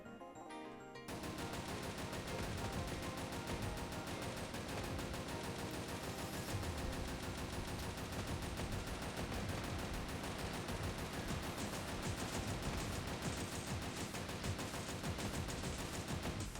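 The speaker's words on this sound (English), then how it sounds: "I'll take this machine gun." A machine gun fires nonstop in the Sentinel Girls 2 video game, a dense, loud rattle of rapid shots that begins after a brief quiet opening and runs unbroken to the end, layered over game music.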